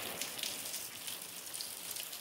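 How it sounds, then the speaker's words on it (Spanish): Rain falling outdoors as a steady, soft, even hiss with faint pattering, no voices. "se vino la lluvia, miren"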